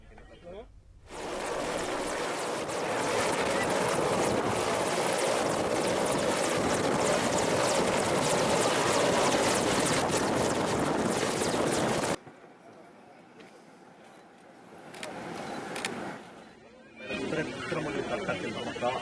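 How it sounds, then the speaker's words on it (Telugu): A helicopter carrying President Droupadi Murmu lands on a helipad in Kerala, a loud, close rotor roar with steady chopping that holds for about eleven seconds before cutting off abruptly, followed by quieter background noise. "కేరళలో రాష్ట్రపతి ద్రౌపది ముర్ము ప్రయాణిస్తున్న హెలికాప్టర్ ల్యాండ్ అవుతుండగా సమస్య తలెత్తింది"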